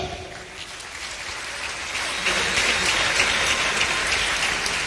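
An audience in a hall applauding ministers and vice-ministers at a political rally, a dense steady clapping that swells louder midway and continues without a break.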